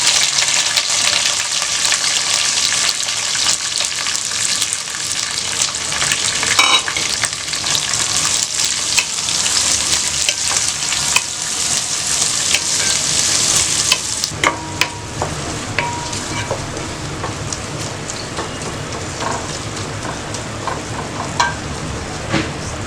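Curry leaves, onion and green chili fry in a pan for minced mutton biryani, giving a loud, continuous sizzle with stirring scrapes, which eases to a softer crackle partway through.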